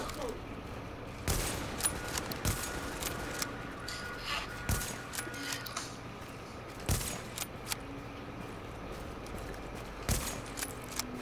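Gunfire in the dark zone of a video game: scattered, fairly faint shots and cracks pop at irregular intervals over a steady background rumble, with one louder sharp shot standing out.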